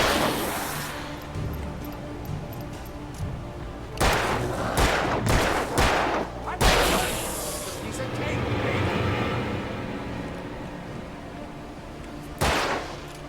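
Several gunshots in the horror game Alan Wake 2, with a clustered volley of loud cracks in the middle and another shot near the end over a tense rumbling backdrop, with a voice talking in between.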